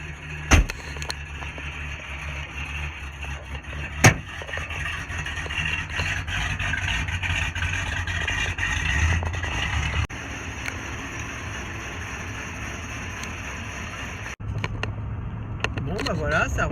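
A 1978 Ford LTD Landau two-door coupé runs after a restart, a steady low engine rumble holding for most of the stretch, briefly interrupted, with someone speaking over it at moments.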